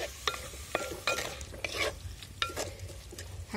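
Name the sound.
onions sautéing in a clay pot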